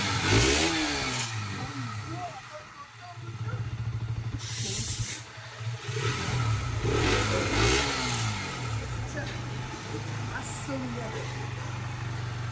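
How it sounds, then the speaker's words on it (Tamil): A KTM RC sport motorcycle is started and revved nearby, its engine rising and falling in several bursts between steady idle, with people talking over it throughout. "மாப்பிள ஆர்சி ஸ்டார்ட் பண்ண போறேன்டா."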